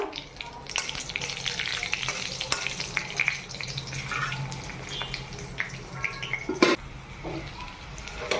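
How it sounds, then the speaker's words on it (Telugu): Tempering spices for a ridge gourd chutney fry in a pan with a steady, close sizzle and crackle, plus occasional stirring clinks and one sharp knock near the end. "తర్వాత ముక్కుడు పెట్టి పోపు వేసేసుకొని వేయించుకున్నాక"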